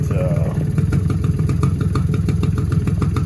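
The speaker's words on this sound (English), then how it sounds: "working on a little two-stroke Polaris." A small two-stroke Polaris four-wheeler engine runs close by with a loud, rapid, popping clatter, holding a steady idle-to-fast-idle pace for a few seconds without speech.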